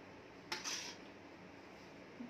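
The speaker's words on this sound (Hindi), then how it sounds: "आप कोई भी चम्मच वगैरह ले और उसे इस तरह से निकाल दें" Spoon scraping watermelon pulp from the rind, one short scraping scoop with a brief metallic clink, quiet and close with no talking.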